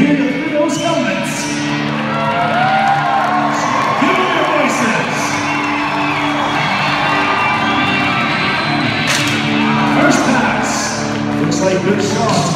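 A crowd at a full-contact jousting event in Regina, Saskatchewan cheers and whoops in a loud, continuous roar, with shouts rising and falling and voices talking throughout.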